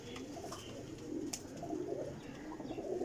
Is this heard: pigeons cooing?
yes